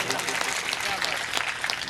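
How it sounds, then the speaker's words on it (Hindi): Audience applause for a performer at a live stage show: a dense, continuous wash of many hands clapping, held at an even level throughout the short stretch. "एक बार इसके लिए जोरदार तालियां बजा दीजिए"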